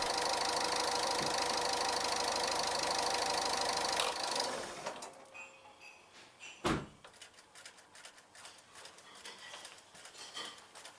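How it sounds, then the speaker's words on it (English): A 2008-on Ford Fiesta Mk7 with a 1.4 TDCi diesel engine running during an oil change, a loud steady idle for several seconds, then quieter with a sharp knock and faint clatter. "the instructions advise you to run the engine for about 5 minutes"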